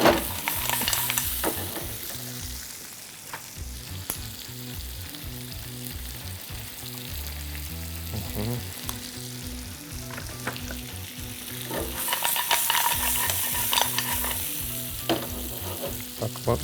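Chicken frying in hot oil in a second pan, a steady close sizzle with stirring scrapes and occasional clinks running throughout, continuous and moderately loud.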